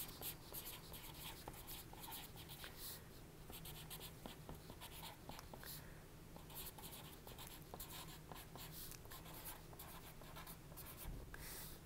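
A pencil scratches across paper, writing in quick, faint strokes that run continuously and close by, with no voices.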